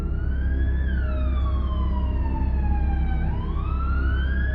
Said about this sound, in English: I could hear police or ambulance sirens in the distance.